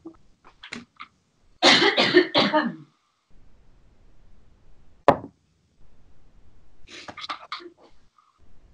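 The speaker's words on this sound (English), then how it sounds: "it's making me cough." A person coughs in a few harsh bursts, with throat clearing and a sharp cough midway, close and loud against otherwise quiet surroundings.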